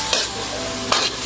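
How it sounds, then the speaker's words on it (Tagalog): Snails are sautéed with lemongrass in a hot pan, a steady close sizzle broken by two brief scraping stirs of a utensil, no voices. "Gisa lang po natin saglit bago po natin ilagay yung toyo."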